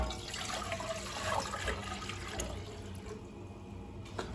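Tap water gushes from a kitchen sink faucet into a pot, a continuous splashing rush that thins toward the end, close and moderately loud with no talk.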